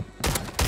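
Rifle fire from a Lockwood 680 in Warzone 3, a couple of loud sharp reports in quick succession after a brief quiet moment.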